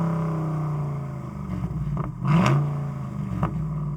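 An off-road car's engine at the start of an off-road day event in the UAE, droning steadily before a loud rev swells up around the middle and a shorter blip follows near the end.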